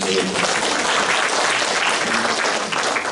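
A church congregation claps during a Good Friday sermon, a short burst of steady, fairly loud applause across the hall with faint voices underneath.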